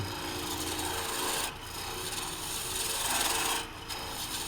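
Woodturning tool cutting maple hardwood on a lathe, a loud, close, continuous rasping scrape in long strokes with two short pauses between them, and no talking.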